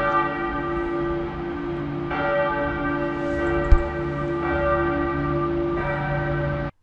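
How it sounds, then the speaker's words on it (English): A Catholic church bell rings steadily in the old town of Mostar, Bosnia and Herzegovina, its sustained tolling heard from a distance and filling the air with overlapping resonant tones. "Now you probably hear the bell of a Catholic church"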